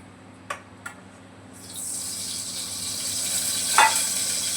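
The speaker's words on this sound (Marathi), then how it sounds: "आता परतून घेते" Chopped onion and tomato hit hot oil in a pan, starting a steady bright sizzle that swells and keeps going, after a couple of sharp taps beforehand and one louder clink near the end; no one talks.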